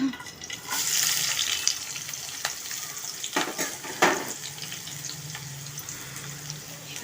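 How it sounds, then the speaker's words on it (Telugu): Onions and green chillies frying in oil in a pan, a steady broad sizzle with intermittent scraping stirs and a louder clatter around the middle, no one speaking. "ముందుగా మనం పాన్లో ఆయిల్ పోసుకుందామండి ఉల్లిపాయలు పచ్చిమిరపకాయలు వేయించుకున్నా"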